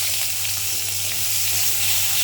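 Onion sizzling in hot oil with panch phoron spices: an even, bright, close frying hiss that holds steady throughout without pauses or voices.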